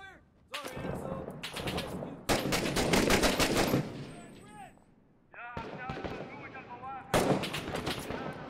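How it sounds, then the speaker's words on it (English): Video-game gunfire in a GTA roleplay police shootout comes as bursts of sharp shots from several directions, split by short pauses, with players talking over them. "We're getting shot from multiple angles here."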